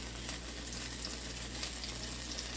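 Pancake batter sizzles in a hot pan in a home kitchen, a steady, soft hiss of frying with faint crackle throughout, no voices.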